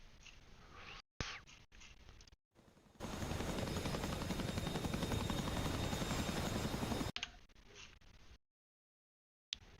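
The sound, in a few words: Mi-8 heavy lift helicopter flying, from a video game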